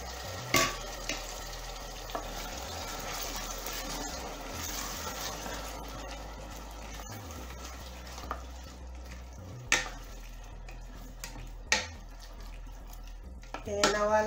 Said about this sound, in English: And I'll allow this to fry for like 10 minutes.